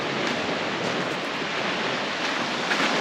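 Sea waves washing onto an empty morning beach near Etna in Sicily, a steady broadband surf roar with a soft wind-like hiss and no voices.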